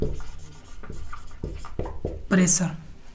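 Someone writes a word on a board with quick, scratchy strokes, several short bursts close by, while someone talks over them.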